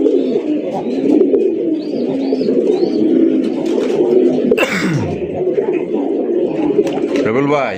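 Red pigeons, including a male, coo in a steady, low, rolling drone throughout, with some higher chirps and a brief rustle midway.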